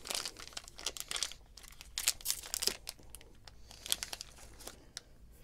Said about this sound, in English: So let's open another pack